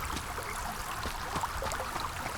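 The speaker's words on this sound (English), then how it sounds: "And if I wander up here, you can hear the intensity of the water raise." A river stream ambience in a game scene, with continuous rushing, trickling water at a steady moderate level and no voices.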